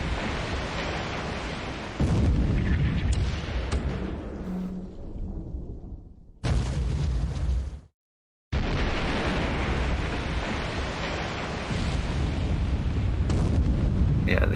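A 14-inch naval shell strikes a destroyer in a naval war video game, a loud, rumbling explosive roar that swells and fades, drops into a brief gap of silence, then resumes as a sustained heavy rumble.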